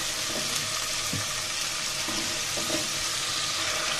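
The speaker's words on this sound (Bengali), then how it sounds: "আদা রসুনগুলো আমার ভাজা হয়ে গিয়েছে" Ginger and garlic frying in a pan for a village chicken curry with potatoes, a steady close sizzle with faint stirring scrapes, no voices.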